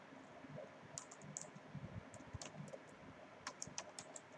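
Computer keyboard typed on in bursts of quiet, close clicks with an uneven rhythm, alone with no voices over a low background hum.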